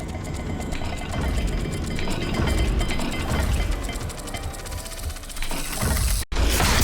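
Turning dial mechanism in the video game Hogwarts Legacy, heard as a loud, dense run of ratcheting clicks and grinding gears that continues steadily, cuts out for a moment, then resumes.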